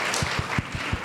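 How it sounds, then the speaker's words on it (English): Brief burst of audience applause at an in-person film screening, a dense wash of clapping with a few stronger hits, lasting only about a second. "another round of applause"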